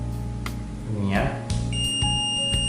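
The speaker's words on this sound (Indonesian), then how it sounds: "kenapa dia tulisannya low dan bunyi beep kalau kita menggunakan notifikasi beep ya" An infrared thermometer powering on gives a steady, high electronic beep tone in the second half, fairly clear over a person talking nearby and some low hum.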